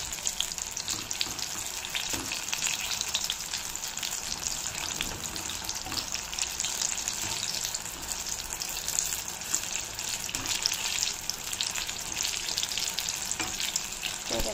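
Bhaji (fritters) deep-frying in a small amount of oil, a continuous close crackling sizzle with scattered bubbling pops, steady and unbroken, with no voices.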